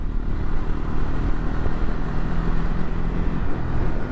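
A Ducati Scrambler motorcycle engine drones steadily while riding, loud and close, with a low rumbling throb and some wind buffeting throughout.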